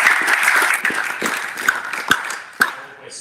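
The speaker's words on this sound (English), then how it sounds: "give a round of applause." A group's applause at an end-of-tour presentation for a cricket team, dense clapping at first that thins into a few scattered, sharper claps before fading out.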